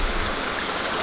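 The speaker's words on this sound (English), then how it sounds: "we haven't got the best weather today, it's actually raining" Rain falling outdoors, a steady broadband hiss that sounds close and fairly loud, with no pauses and no voices.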